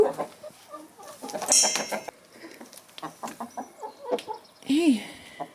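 Backyard chickens, hens and roosters, cluck and squawk in short bursts around a person, close by, with one sharper squawk near the end and soft voices mixed in.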